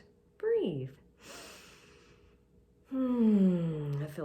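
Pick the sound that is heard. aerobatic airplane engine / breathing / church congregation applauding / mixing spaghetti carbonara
breathing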